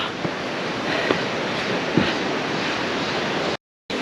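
Yongdam Falls, a three-tiered, 30 m waterfall in the Geumsusan mountains of Woraksan National Park, gives a steady broadband roar. The rush runs evenly throughout, broken only by a short dropout near the end.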